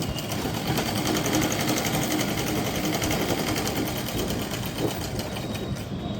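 A sewing machine stitches a 1.5 inch strip onto a baby suit (jhabla), running in a steady, continuous whir with a fast needle rhythm, close and alone.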